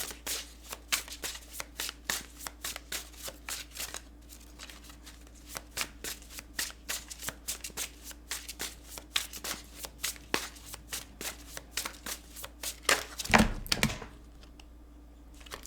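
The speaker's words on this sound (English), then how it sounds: "we'll cut the deck and we'll take the card on top" A tarot deck is shuffled and cut by hand, giving a steady run of close, crisp card riffles and slaps with a louder shuffle near the end.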